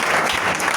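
A church congregation bursts into loud, dense applause during a French-language worship service, a steady wash of many clapping hands with no speech over it.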